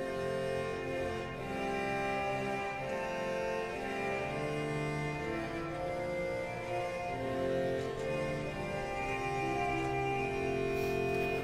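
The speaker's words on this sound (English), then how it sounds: "we've got a reed voice, which is the Vox Humana, an 8-foot bass, and this sounds like that." Reedy, buzzing Vox Humana stop of the Hinsz pipe organ in the Bovenkerk, Kampen, sustains chords over an 8-foot bass in a continuous, even, moderately soft texture filling the church.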